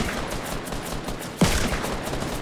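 Gunfire in the battle royale video game Fortnite rattles as a fast burst over steady game noise, one sharp louder shot standing out partway through and the shooting sounding at mid distance.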